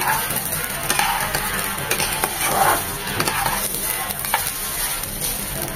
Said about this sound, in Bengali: এরকম 4 থেকে 5 মিনিট ভেজে নেওয়ার পর এরকম মচমচ একটা শব্দ বের হবে